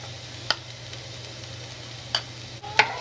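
Ground garlic fries in extra virgin olive oil in a pan with a steady, soft sizzle, broken by a few brief clinks and scrapes as it is stirred.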